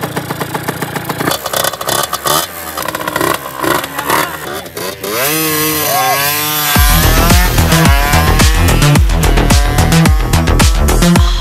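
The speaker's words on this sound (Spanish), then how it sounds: "Él tiene una moto de 49, de cross." A 49cc motocross motorcycle engine revs loudly and close, rising and falling in pitch through repeated throttle blips before settling into a sustained, buzzing high-rev drone.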